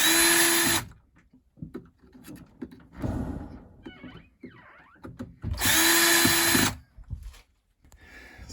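A cordless power drill drives screws into the plastic housing of a Whirlpool water softener, two loud sustained whirring runs separated by clunks and handling noises up close.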